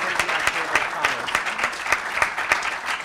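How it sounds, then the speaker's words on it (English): Audience applause for Ray at a town's State of the Town address; fairly sparse, rhythmic claps stand out sharply over a softer crowd wash, with some faint talk underneath. "let's all give Ray a big round of applause"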